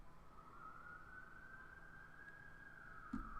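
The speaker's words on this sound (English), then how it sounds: "Can you hear the sirens today?" A faint, distant siren wails steadily outdoors, with a single soft knock near the end.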